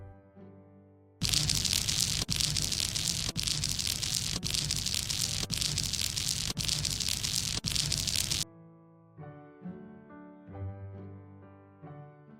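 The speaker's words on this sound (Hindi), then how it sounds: "हम दोनों एक ही बारिश से बच रहे हैं।" Steady, hissing rainfall in an animated short film about an owl starts abruptly and fills several seconds at an even loudness, then cuts off as soft background music continues.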